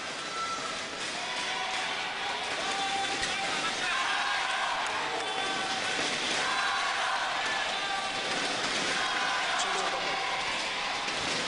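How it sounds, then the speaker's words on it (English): A large stadium crowd at the Gachibowli Stadium cheers on Korea during a 2009 World Championship men's doubles badminton match, a loud, steady roar sustained throughout. "the sympathetic crowd here in the Gachibowli Stadium giving Korea"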